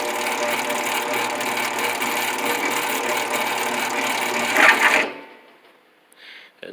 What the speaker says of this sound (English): See the V-belt running in there.